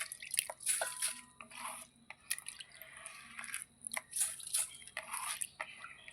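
Washed rice sits in a strainer as water drains and drips through it, producing close, irregular wet dripping and squishy trickles in uneven bursts.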